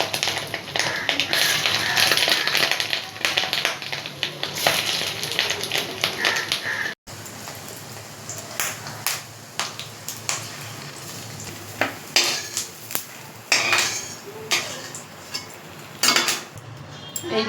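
Fish roe fritters frying in hot oil, a steady close sizzle with scattered sharp pops and utensil taps against the pan, softening after a brief break partway through.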